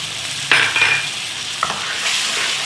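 Spiced masala for a steamed chana dal bariyan gravy is stir-fried in a pan, giving a soft steady sizzle with a few scraping stirs of a spoon, close and with no voices.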